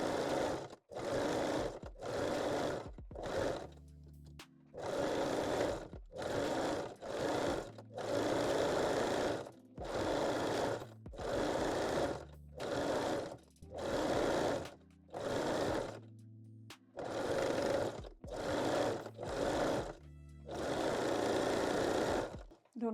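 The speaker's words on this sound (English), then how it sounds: "fold the elastic to the wrong side and stitch your openings again. I'm starting with the waistline again." Sewing machine stitching elastic onto a waistline: repeated loud bursts of rapid mechanical whirring separated by short pauses, close up, with no talking.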